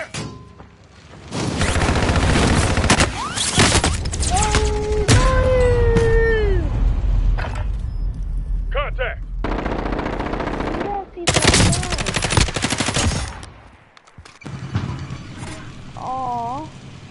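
Video game gunfire, loud automatic bursts and single shots mixed with mechanical clicks and other game effects, with a short break partway through.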